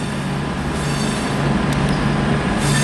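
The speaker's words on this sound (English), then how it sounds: "This is actually an Avanti West Coast Voyager, fully refurbished." A refurbished Avanti West Coast Voyager diesel train rumbles past close by, a loud steady roar of engine and wheels with faint squeals, unbroken for the few seconds heard.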